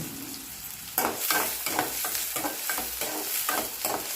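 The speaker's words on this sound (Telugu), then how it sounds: "ఉల్లిపాయలు దోరగా వేగనివ్వాలి" Onions fry in oil in a pan, sizzling loudly up close while being stirred, with repeated scraping strokes every half second or so after an initial quieter moment.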